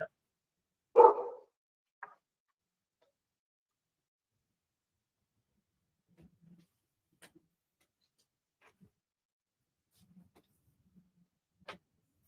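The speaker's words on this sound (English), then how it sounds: "I was actually just trying to spare you guys hearing a dog barking in the background" A dog barks once loudly at close range, followed by a shorter second bark and then scattered faint thumps and clicks in an otherwise quiet room during an online town planning board meeting.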